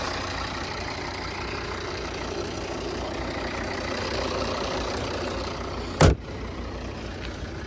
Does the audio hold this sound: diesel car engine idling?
yes